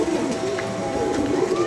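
Pigeons cooing in a loft, low throaty coos repeating steadily and close, with faint voices and background noise around them.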